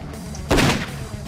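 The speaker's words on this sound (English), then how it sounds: "A gunshot, the bullet hit Wilhelm straight in the forehead just like the last one" A single loud gunshot in the Dies irae visual novel, a sharp blast with a short booming tail, alone without talk.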